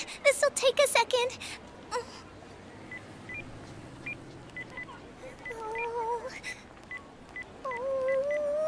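Cell phone keypad beeps in an animated comedy scene, a rapid run of short dialing tones followed by further spaced single beeps and brief melodic tones, close and clear, with soft background voices early on.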